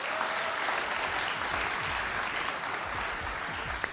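Dense, sustained applause from a large studio audience at a TV comedy talk show, steady and loud for the whole stretch, with no talking over it.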